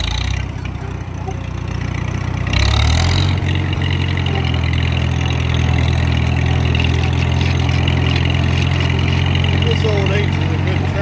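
An old H tractor's engine runs steadily at idle with a deep, continuous low rumble. Its note shifts slightly about a third of the way in, then holds even and fairly loud to the end.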